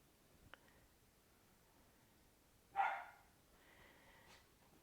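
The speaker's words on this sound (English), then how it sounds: "And she found something to bark at." A dog gives a single fairly close bark after a stretch of near quiet, followed by faint softer sounds in the background.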